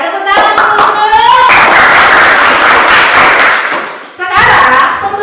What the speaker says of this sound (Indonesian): Iya, tepuk tangan Musno.